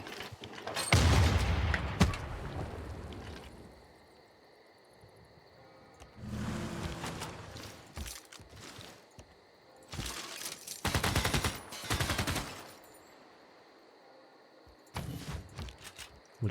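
An artillery unit firing in Civilization VI: several separate loud bursts of booming, rattling gunfire, each a second or two long, separated by quieter gaps.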